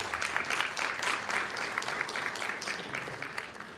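A city council meeting audience gives a round of applause for classified school employees. The clapping is steady and moderately distant and holds evenly throughout.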